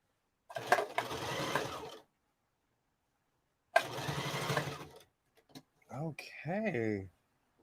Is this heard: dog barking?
no